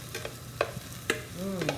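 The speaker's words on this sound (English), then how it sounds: "See, we have our onions. We're caramelizing them." Onions caramelizing in a pan for burgers: a soft sizzle under several sharp spatula scrapes and stirs, close and fairly quiet, with no speech.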